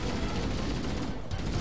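Needler fire in Halo 1 on Legendary in The Library, a dense, continuous spray of rapid shots and impacts filling the whole stretch at steady, loud intensity.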